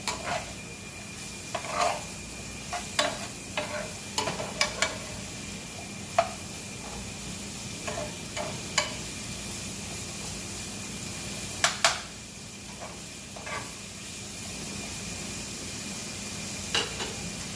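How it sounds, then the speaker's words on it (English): Chopped vegetables including turnip stirred through sunflower oil in a hot pan, a steady close sizzle broken by scattered scrapes and clicks of the utensil against the pan. "Give it a nice little stir, let it get coated with the sunflower oil."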